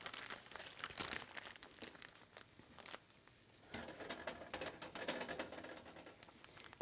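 A plastic freezer bag is packed and rolled up tightly in a garden setting. Faint, irregular crinkling and rustling comes in quick bursts and scattered pats, quiet and close, with no speech.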